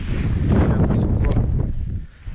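Wind and rain buffet an outdoor microphone during a Lithuanian metal-detecting dig, giving a continuous loud rumbling roar with brief gusty swells that drop away near the end.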